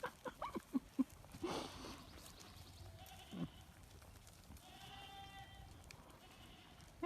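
Goats bleating repeatedly around small goat houses at a lively outdoor live event, a cluster of near calls early on, then wavering, drawn-out bleats later over a noisy background.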